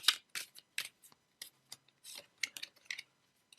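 Cards from an oracle personal-messages deck are handled and drawn, producing a quick series of sharp, crisp snaps and flicks in an irregular rhythm, close and fairly quiet, with no talking.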